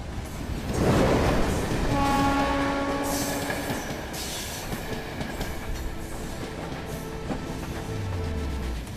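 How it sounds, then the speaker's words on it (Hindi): A train rolls in and passes in a film scene, with a loud rumble, screeching wheels, sustained horn tones and rhythmic clatter that gradually eases while the heavy rolling noise continues. "पर ट्रेन आने वाली है।"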